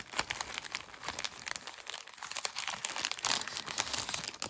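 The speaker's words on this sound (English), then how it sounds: "let me go ahead and pull this bag open." A plastic bag of beads being pulled open close up, with continuous crinkling and crackling of the plastic and occasional sharper tearing snaps throughout.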